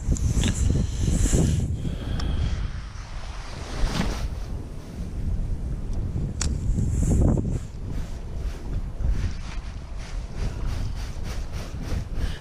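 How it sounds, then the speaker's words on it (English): Strong wind gusts rushing across a microphone outdoors on an Australian fishing trip, a steady roaring buffet with surging swells and no voices. "that wind took that over there"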